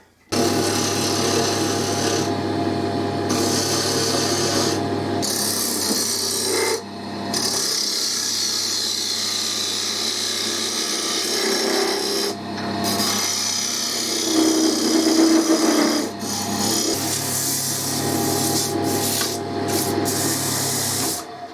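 A wooden wheel for a Westwood mower deck is shaped on a wood lathe, and the tool cutting the spinning wood makes a loud, steady rasping scrape that breaks off only in brief pauses.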